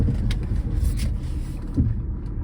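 A used car's engine idles smoothly in a dim pub car park in Birmingham, a steady low rumble that continues without a break and then eases slightly near the end.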